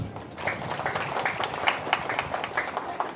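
A sermon audience breaks into applause, a dense, even wash of many hands clapping for a few seconds at moderate volume.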